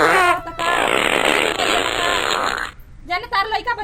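A long, loud, buzzing fart stretching for about two seconds, bracketed by brief bursts of talk or laughter.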